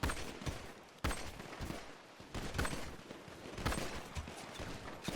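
Gunfire in a video game: dense, continuous bursts of shots and explosions, loud and close, with several heavy impacts standing out through the clip.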